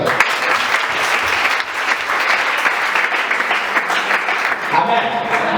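Church congregation applauding, a dense, sustained burst of many hands clapping at close range, with voices rising over it near the end.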